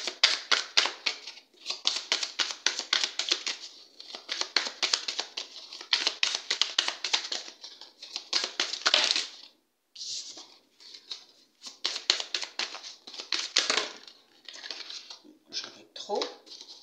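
Tarot cards handled on a table: continuous soft shuffling and sliding of the cards, brisk and close, with brief pauses, one card laid over another, and speech mixed throughout.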